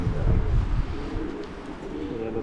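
Deep, soft cooing from a Voss Janssen racing pigeon, close by and repeated in low throaty pulses, over light background noise.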